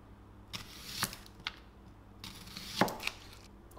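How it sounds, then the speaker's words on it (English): A knife slices thin pieces from an onion on a cutting board for a KFC pizza, producing several close, irregular sharp chops separated by short pauses. "And I'll need some onion. I'll cut some nice thin slices of this."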